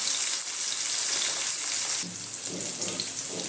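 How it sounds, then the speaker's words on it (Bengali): Katla fish frying lightly in oil in a kadai, giving a steady, dense sizzle and crackle close by that shifts slightly midway, with no talking. "মাছগুলোকে ভেজে দেবো। খুব লাল করে ভাজবো না, একটু হালকা করে ভাজবো।"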